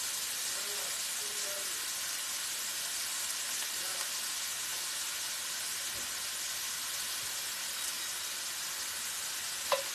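Food browning in a pan on medium heat for hamburger steak and gravy gives a steady, even sizzle and hiss, with a few faint clinks and no talking.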